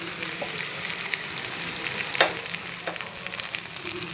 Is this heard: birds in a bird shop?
no